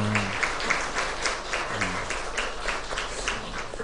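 A university chapel congregation claps steadily in sustained applause after a hymn, a dense patter of many hands with a low murmur underneath.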